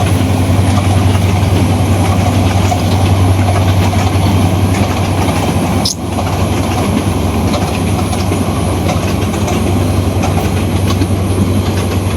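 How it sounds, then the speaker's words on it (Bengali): A train rolls past close by, its steady loud rumble and wheel clatter on the rails filling the whole stretch with no voices heard. "আয় ওই ট্রেন যাইতেছে"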